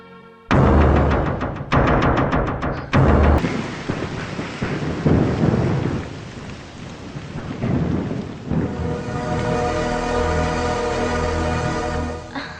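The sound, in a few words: thunderstorm with heavy rain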